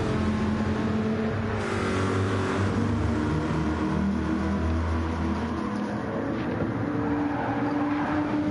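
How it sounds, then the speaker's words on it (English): Two American muscle cars racing at Laguna Secca in a video game, deep rumbling V8 engines droning and revving together at steady loudness, with no speech over them. "These two American muscle cars battling it out."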